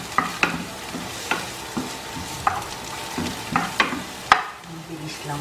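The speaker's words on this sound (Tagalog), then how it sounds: "Iluna kong luya para maluto siya sa oil" Ginger and onion frying in hot oil in a pan for chopsuey, a steady close sizzle punctuated by sharp scrapes and clacks of a utensil stirring at irregular intervals.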